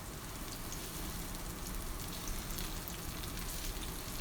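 Sweet plantain slices sautéing in a pan, a dense steady sizzle and crackle of frying sugar-coated fruit, close and continuous throughout with no voices.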